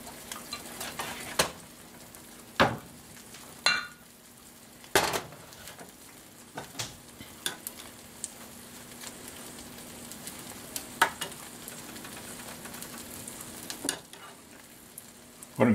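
Eggs cook in a pan for a country breakfast, a soft continuous sizzle running underneath while several sharp utensil taps and clanks strike the pan at irregular intervals.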